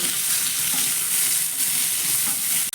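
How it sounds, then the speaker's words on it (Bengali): Coconut pieces and a large tomato fry in a pan with a steady, dense sizzle that holds evenly throughout, close and fairly loud, with faint stirring underneath. "এবার সবগুলো আমি একটু ভেজে নেব"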